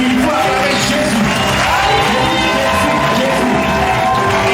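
A church congregation at a Sunday worship service raises loud, sustained cheering and acclaim for Jesus, a thick wall of many voices shouting together with some clapping mixed in, filling the room at a steady high level.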